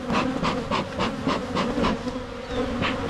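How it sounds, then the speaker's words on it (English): Agitated honeybees buzz loudly and continuously around an open hive during an early spring inspection, a dense close swarm hum with pulsing surges throughout. "These bees are really not happy."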